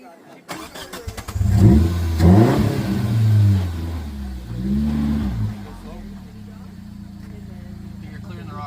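A Suzuki 4x4 crawls over a rock on an off-road trail at a club camp-out, its engine revving hard and close, then easing back toward a lower idle, with people talking over it.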